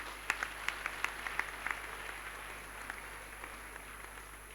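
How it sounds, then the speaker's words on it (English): Faint, scattered applause with distinct claps fading into a soft patter at an induction ceremony for graduating medical doctors at a Nigerian university, heard from a distance over a constant hum. "I think they deserve a round of applause in this song."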